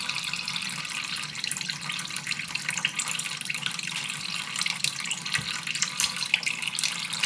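Tap water runs steadily into a sink while soap is rinsed from a tinted makeup brush, a constant close splashing hiss with small drips and no talking.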